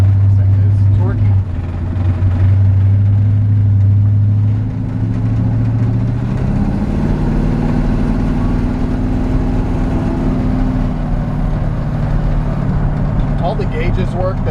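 1956 Chevrolet 3200 pickup truck engine while driving, a deep steady rumble that rises in pitch as it pulls, loud and close inside the cab, with someone talking over it.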